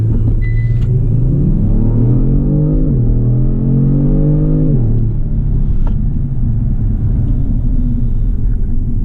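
A 2019 Kia Stinger GT with 365 horsepower launches under launch control, its engine roaring loud and close, climbing in pitch through two rising gears before the tone steadies into a sustained cabin rumble.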